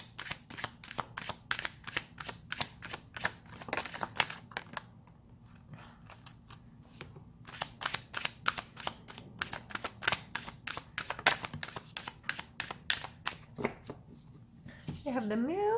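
Tarot cards riffle and snap in repeated rapid shuffles, close and crisp, pausing briefly midway before more flicking, with a voice speaking softly near the end.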